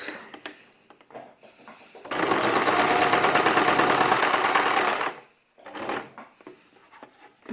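Sewing machine stitching a Montessori fabric ball, running steadily for about three seconds as a loud continuous whir between quieter stretches of handling noise.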